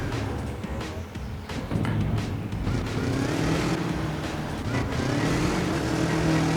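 Motorbike engine in Trials HD, a loud, continuous buzzing drone whose pitch rises and falls as the throttle is eased on and off, with short rough bursts and clatter mixed in.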